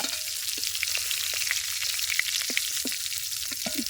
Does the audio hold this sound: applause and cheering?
no